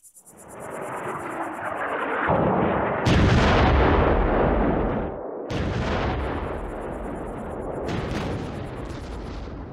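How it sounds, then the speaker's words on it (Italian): Heavy and medium-calibre artillery firing from rear lines, a run of deep booming blasts with rumbling, sustained roar between shots, loud and continuous with no talk. "Nelle retrovie sono posizionati i grossi e medi calibri che sparano da una distanza anche di 20"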